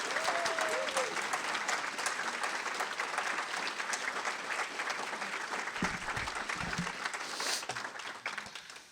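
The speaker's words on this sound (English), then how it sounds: "I want to hear some very loud applause." Loud, sustained applause from an audience honoring literacy program participants, dense steady clapping filling the room for about nine seconds with a few voices mixed in.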